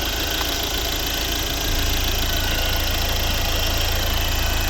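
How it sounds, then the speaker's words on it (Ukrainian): A 2012 Volvo C30 with a 1.6 D2 diesel engine idles steadily nearby, a loud even rumble with a low drone that thickens slightly partway through. "чітко заводиться, чітко працює"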